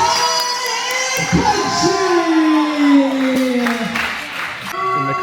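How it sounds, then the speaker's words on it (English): A wrestling crowd at a charity tag team event cheers and shouts steadily, with an announcer's amplified voice talking over the noise. "And the crowd's riled up for this"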